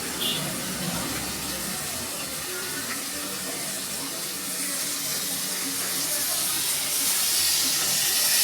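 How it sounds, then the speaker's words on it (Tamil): Tamarind soaked and dissolved in water being poured back for a green turkey berry curry, a steady close splashing, trickling flow that swells slightly toward the end. "புளியை நல்லா கரைச்சி மறுபடியும் ஊற்றிக்கங்க"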